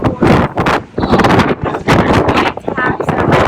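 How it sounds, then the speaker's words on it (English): Strong gusts buffet the microphone on a cruise ship's veranda balcony at sea on a windy day, roaring in bursts under a person talking. "It's a windy day"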